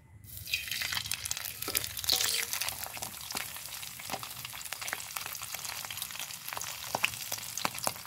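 Dried danggit fish frying in cooking oil, a close, lively sizzle with irregular crackles and pops over a steady bubbling hiss, plus occasional stirring scrapes, no talk.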